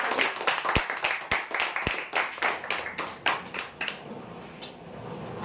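Audience clapping at a prize draw ceremony, a run of sharp, uneven hand claps from a modest crowd that thins out toward the end.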